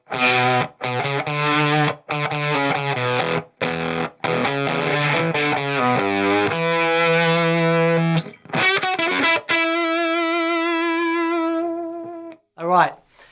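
Electric guitar driven through a fuzz pedal, heard as loud, choppy fuzzy notes and short bursts with gaps, ending in a long sustained note that fades out.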